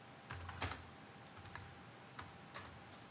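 Scattered keystrokes on a computer keyboard as code is typed, a short burst of clicks followed by a few spaced, soft taps, close and alone against quiet room noise.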